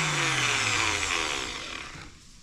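A magnetic drill motor spins up loudly with a rising whine, then winds down over a couple of seconds, close by.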